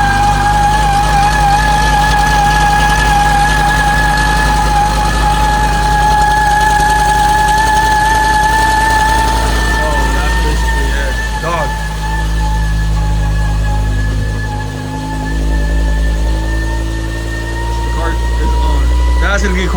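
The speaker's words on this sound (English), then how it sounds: "So the car does start, but it has a funny sound right here." A BMW E60 M5 idles on a cold start with an odd noise, a loud steady engine drone with a high whine running over it, close by and continuous.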